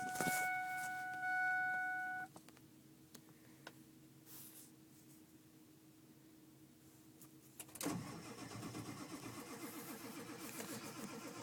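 A Ford 7.3 diesel cranks on a hard start, with a steady starter drone running for several seconds after a brief high electronic chime, then catching into a louder, rougher running engine close by.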